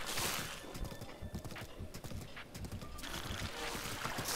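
A horse gallops in The Legend of Zelda: Breath of the Wild near water, its rapid hoof clip-clops close and steady, with a whinny and splashy movement mixed in.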